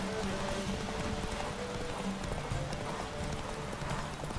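Horse hooves clip-clop at a steady gallop in The Witcher 3 video game, a continuous rhythmic patter filling the scene at moderate loudness with no pause.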